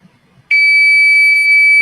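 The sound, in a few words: electronic buzzer beeping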